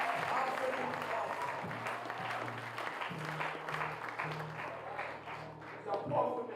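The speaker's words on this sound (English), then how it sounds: "Clap it again, clap it again." Steady applause from an audience fills the room at an awards ceremony, dense and sustained throughout, with a voice speaking over it and a low musical tone underneath.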